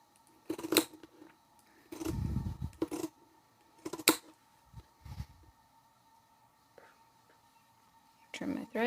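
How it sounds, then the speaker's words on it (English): Pinking shears trimming the seams of sewn fabric lining pieces, heard as a few separate crisp snipping and cutting bursts spread across the clip, with some quiet handling noise and a soft voice in between. "If you have a serger, you can trim off, or you could just trim with, I prefer pinking shears."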